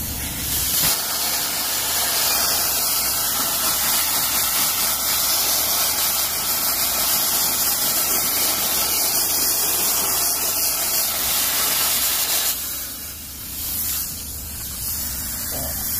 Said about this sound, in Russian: Вот так мы все арочки отпекаструем.